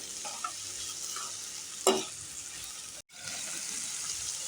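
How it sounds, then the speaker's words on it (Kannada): Cluster beans and radish pods, already fried, scraped and stirred together in a pan, with a soft constant sizzle, a few scattered utensil clinks and one louder scrape midway. "ಹುರಿದಿಟ್ಕೊಂಡಿರುವಂಥ ಚವಳಿಕಾಯಿ, ಮೂಲಂಗಿಕಾಯಿ ಹಾಕ್ತಾಯಿದ್ದೀನಿ. ಚೆನ್ನಾಗಿ ಮಿಕ್ಸ್ ಮಾಡ್ಕೊತಾ ಇದ್ದೀನಿ."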